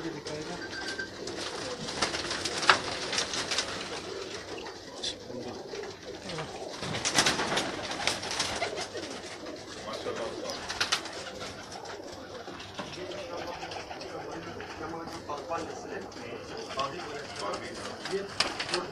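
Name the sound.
pigeons cooing in a loft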